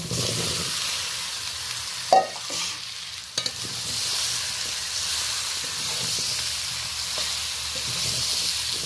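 Mixed vegetables sautéed with onion, tomato and green chilli hiss and sizzle steadily in a pan, with a couple of sharp scrapes and knocks from stirring near the start, close and continuous, with no talking.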